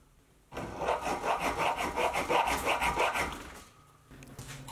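A hand hacksaw cuts through a 25x50 steel bar in steady, rhythmic back-and-forth strokes, loud and close, for about three seconds before stopping, with no talking.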